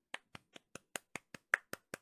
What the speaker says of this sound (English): That's an applause for you.